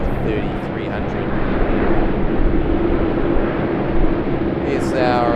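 An Airbus A330-300 airliner at Sydney Airport produces a loud, sustained jet engine roar with a broad rumbling wash that holds steady from start to finish.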